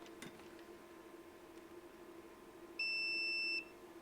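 A multimeter gives a single continuity beep, a steady high electronic tone lasting under a second, while testing the motor windings of a 1942 Delta drill press, over a faint background hum.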